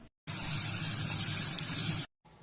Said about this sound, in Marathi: तिला आधी धुवून घेऊया चांगल्या